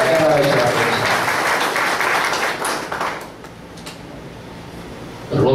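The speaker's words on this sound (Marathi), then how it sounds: "सगळ्यांनी टाळ्या वाजवून यांना स्वागत करावे." A crowd at an event for a chemist in Yavatmal claps to welcome guests, with dense applause for about three seconds that then thins into scattered claps before swelling again, with some voices mixed in.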